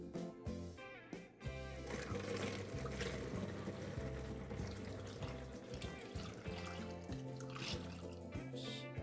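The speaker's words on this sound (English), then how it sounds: "All that's left to do now is just fill our bottle." Vinegar-based cleaning liquid pours steadily into a spray bottle, a continuous close splashing and gurgling stream over rhythmic background music, lasting several seconds.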